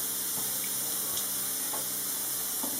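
Roughly half a litre of water poured into a couscous pot: a steady, close rush of running water lasting a few seconds, with faint clinks underneath and no talking.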